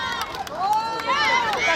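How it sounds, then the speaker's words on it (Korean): A crowd cheers and screams at an outdoor Children's Day youth festival K-pop performance, with loud, continuous high-pitched shrieking that swells and carries on over the whole stretch. "자, 환호 소리가 엄청나네요."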